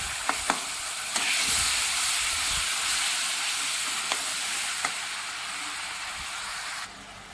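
Garlic and fenugreek fry in hot oil for tomato pickle, a loud steady sizzle close up with a few light clinks of a stirring spoon, dying down near the end.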